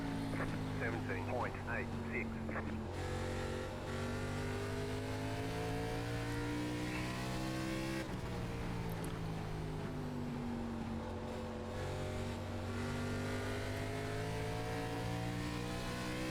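ARCA Series race car engine in the iRacing simulator at Five Flags Speedway, a loud steady drone that rises and falls in pitch through shifts and corners across the whole stretch.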